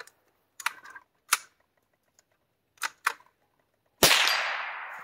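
A Savage Mark II rimfire rifle fires, giving sharp close cracks, the loudest one near the end with a long bright decay. Lighter clicks from handling the bolt sit between the shots.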